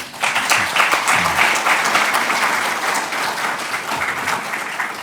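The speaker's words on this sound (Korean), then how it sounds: "박수로 감사하죠" Sustained, even applause from a conference audience thanking participants after a pastoral dialogue session, filling the whole stretch at steady strength without voices.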